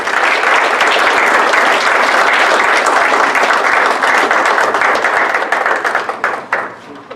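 Loud, close applause from an audience welcoming the speakers of a history panel, a dense wash of clapping held steady for several seconds before thinning into scattered final claps and fading out.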